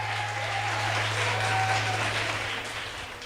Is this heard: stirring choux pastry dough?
no